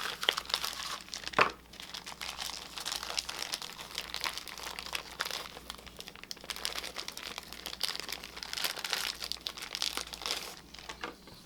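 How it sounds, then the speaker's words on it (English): Knife cutting through precooked smoked sausage, heard as soft continuous crinkling and crunching with one sharp click near the start, fairly quiet and without talk. "I'm going to go ahead and cut our sausage."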